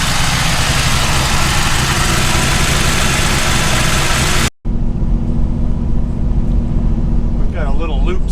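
A Corvette fitted with a Cummins belt tensioner runs steadily with a low, continuous engine drone; partway through the sound cuts out briefly and returns with the same steady engine tone, while a voice is heard near the end.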